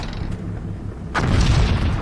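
An explosion in the video game Combat Mission Black Sea lands as a sudden deep boom about midway, followed by a broad rumbling tail that stays loud to the end.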